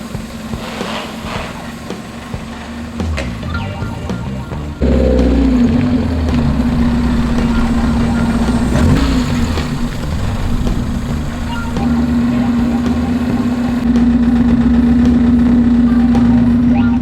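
A drift car, fitted with its last wheel and side skirts, idles up close with a steady, even engine hum that grows louder and fuller partway through as it is pulled outside.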